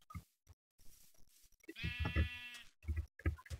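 A Minecraft sheep bleats once in a long, wavering cry, surrounded by short clicks and soft bumps from play nearby.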